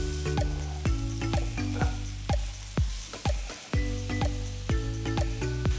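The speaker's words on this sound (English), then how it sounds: "Stir fry the vegetables for about 5 minutes on medium flame." Shredded cabbage, julienned carrot and sliced mushrooms stir-frying over a medium flame, a loud steady sizzle punctuated by sharp rhythmic clanks of a spatula tossing vegetables in the pan, no speech.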